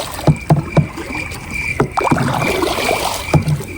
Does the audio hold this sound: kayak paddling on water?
yes